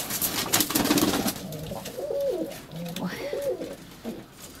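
Pigeons coo close by in two rolling, throaty phrases, with wing flutters and rustling at the start and people talking nearby.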